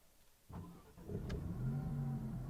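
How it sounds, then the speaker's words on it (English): A 2022 Maserati MC20 engine cranks with a sharp burst, then catches and settles into a deep, throaty idle rumble that grows steadily louder. "And its engine comes to life."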